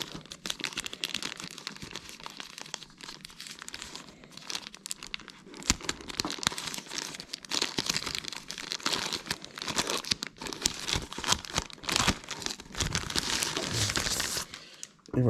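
Packaging of a Xiaomi AX3000 mesh router being opened, with close crinkling, rustling and tearing of plastic and cardboard in irregular bursts that grow busier toward the end.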